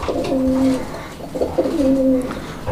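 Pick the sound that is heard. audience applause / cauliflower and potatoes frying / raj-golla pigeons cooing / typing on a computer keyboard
raj-golla pigeons cooing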